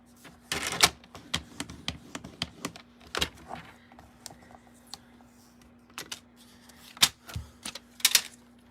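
Cardstock being scored on a score board makes a scattered series of sharp clicks and short scraping strokes, irregular and close, in an otherwise quiet room with a faint steady hum.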